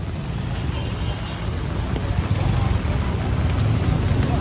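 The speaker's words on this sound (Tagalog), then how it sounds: "Oh no! Ulan na talaga." Steady rain hisses and patters across the whole clip, with a low rumble underneath, growing slightly heavier toward the end.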